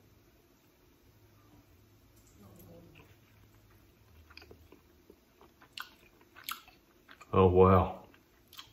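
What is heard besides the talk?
chewing a bite of smoked spatchcock chicken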